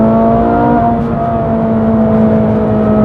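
A Ferrari 458 Italia Spider's flat-plane crank V8 drones steadily at high revs, a smooth, loud, tonal engine note with a slight pitch shift early on, heard from close by with no talking.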